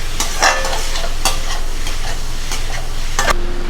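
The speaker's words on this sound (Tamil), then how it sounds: "டொமேட்டோ சாஸ் சேர்த்துட்டு நல்லா கலந்து விட்டுருங்க." Paneer manchurian gravy with tomato sauce bubbles and sizzles loudly in a pan while a spoon stirs it, giving a string of sharp scraping clacks over the steady frying hiss.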